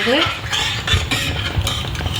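A utensil scrapes and clinks against a pan in repeated stirring strokes, close and fairly loud, with thick, watery gram flour batter sloshing under it.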